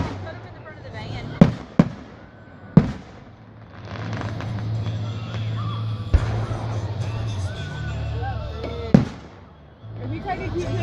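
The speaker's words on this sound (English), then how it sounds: "Watch the fireworks, y'all." Fireworks at an outdoor display go off in several sharp booms and cracks spread across the stretch, some loud and close, others softer, over a low rumble with people chatting in the background.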